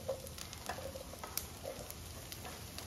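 Squash added to a pan of garlic frying over low heat, heard as a quiet, close sizzle with soft crackles and a few light scraping stir sounds, no talking.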